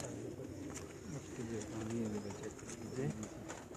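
Pigeons coo on a rooftop in Kharian, a steady stream of low, throaty calls from several birds nearby, with faint voices and ambient noise in the background.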